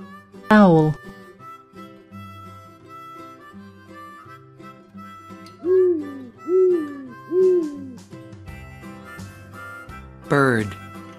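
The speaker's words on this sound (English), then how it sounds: "Owl." Three mid-pitched owl hoots in steady succession over gentle background music from a children's wild animal cartoon, with a brief voice speaking at the start and again at the end.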